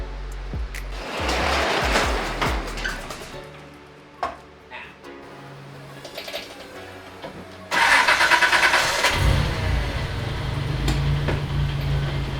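A Mazda 3 engine, fitted with an electric power steering pump and running very lean, rumbles with a low steady idle, with clattering handling noises over it and a louder burst partway through.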